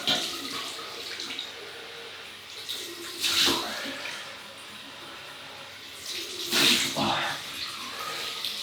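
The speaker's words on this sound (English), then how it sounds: "So we'll have a cold water rinse." Cold tap water runs steadily into a basin to rinse after a wet shave with a 1960 Gillette 195 Fat Boy double-edge razor, a soft continuous splash with two louder surges of flow.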